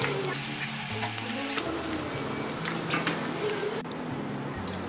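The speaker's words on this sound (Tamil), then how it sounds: "சும்மா அங்கங்கே வெடிக்கும் போது எண்ணெய் தெறிக்குது" Squid pieces deep-fry in hot oil, giving a steady crackling sizzle peppered with small pops and spits, moderately loud and continuous throughout.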